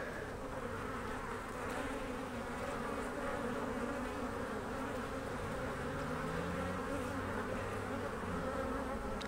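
A dense, continuous drone of many honey bees buzzing close by at an open beehive, steady throughout with no talking.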